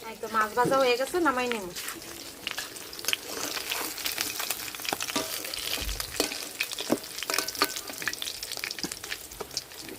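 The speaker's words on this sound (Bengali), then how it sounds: "মাছ ভাজা হয়ে গেছে আমি এই তেলেই ফুলকপি ভাজা নিব" Fish frying in oil in a home kitchen pan for Rui fish curry, a steady crackling sizzle with scattered pops and stirring scrapes throughout, starting under a brief stretch of voice.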